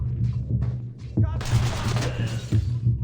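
Suspects firing guns in the tactical shooter video game Ready or Not, bursts of rapid gunfire that build into a dense, loud volley with sharp repeated cracks, no talking.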